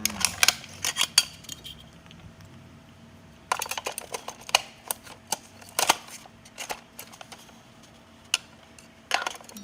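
Batteries are slotted one by one into a small plastic toy cow, producing sharp, close clicks and rattling taps in irregular clusters against a quiet background.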